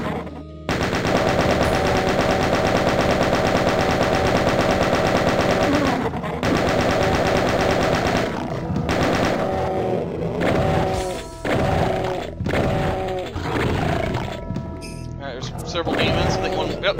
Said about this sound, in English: we got some ammunition with the chain gun, so we can go ahead and fire away with this.